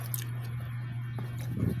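Close, wet chewing of crunchy mango, with soft squishy bites and a few sharper crunches that build toward the end over a steady low hum.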